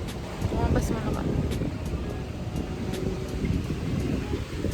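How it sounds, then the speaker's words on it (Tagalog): Steady wind rushes and buffets against the microphone throughout, a continuous roar with voices faintly mixed in, in Boracay. "Ang hangin."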